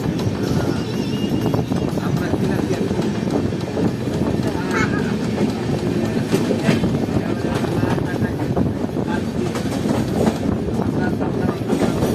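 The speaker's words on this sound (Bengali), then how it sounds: "আমাদের train Saika junction railway station থেকে বেরিয়ে যাচ্ছে" The 13011 Howrah–Malda Town Intercity Express rumbles steadily and loudly while pulling out of Sainthia Junction, wheels clattering beneath a dense, continuous roar, with indistinct voices mixed in.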